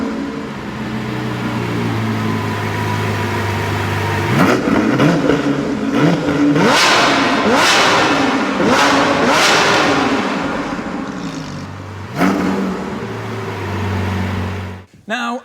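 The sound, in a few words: Lamborghini Sian FKP 37 6.5 litre V12 engine revving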